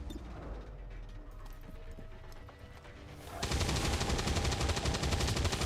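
A soldier's rifle firing in XCOM 2, heard as a loud burst of gunfire that sets in partway through and keeps going dense and sustained, above a quieter stretch of ambient game sound.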